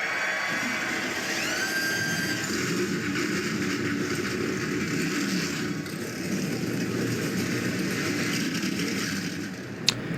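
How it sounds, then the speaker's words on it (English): Stock car engines roar in a NASCAR race simulation at Richmond as the field rolls off after a restart, making a dense, steady droning rumble that holds for about ten seconds with no talk. "Engines fired, cars back rolling"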